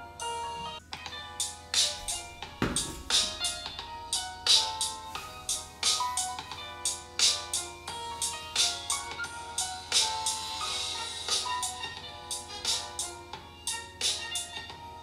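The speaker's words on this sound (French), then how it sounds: "test de son pour voir ce que ça donne sur ce téléphone" An IIIF150 Air3 rugged smartphone plays a bright, rhythmic ringtone-style melody through its loudspeaker at full volume, with steady repeated plucked notes that are loud and close with no talking.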